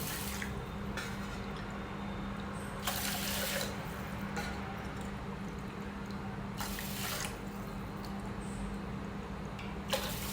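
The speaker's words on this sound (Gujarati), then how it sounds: "એની સામે આપણે ચાર વાટકી પાણી એડ કરી દઈશું" Water runs and splashes steadily into a pot of dal and rice for khichdi, a continuous close trickling stream with brief louder surges, and no voices.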